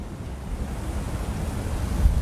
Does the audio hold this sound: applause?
no